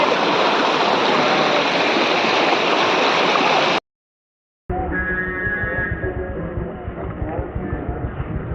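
Rushing water at Kangthilangso waterfall makes a loud, steady, close roar that cuts out abruptly, then returns as a rougher, gurgling rush with faint voices in the background.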